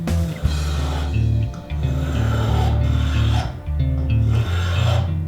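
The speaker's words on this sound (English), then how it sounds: "For the handle, I'm just going to shape it with a spoke shave and some sandpaper." A spokeshave and sandpaper shape a wooden mallet handle, producing close, rhythmic rasping strokes that repeat about every second with brief pauses between them.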